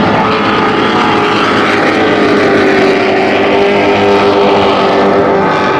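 Offshore superboat Maritimo racing flat out at Lake Macquarie, a loud, steady engine roar with broadband wash filling the whole stretch, sustained and close with no break.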